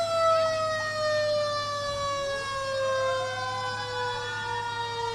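Ambridge Fire Department truck 71-3 rolls past in a Christmas parade on Merchant Street, its wailing siren loud and close, sweeping down in pitch as it goes by over a steady engine drone.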